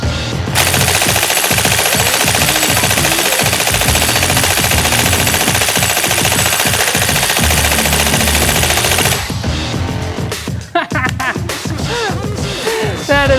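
Airsoft electric gun emptying a magazine at wireless targets, a long rapid buzzing burst of full-auto fire that runs for several seconds, then stops, followed by scattered clicks and handling noises.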